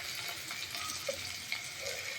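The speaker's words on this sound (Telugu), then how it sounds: "చూసారు కదా నూనె ఇట్లా చిప్పట్ అంటుంది అట్లా" Hot oil sputtering and crackling in a pan as ginger paste fries for an old-style taro root curry, a steady dense hiss with a few brief sharper pops, no talking.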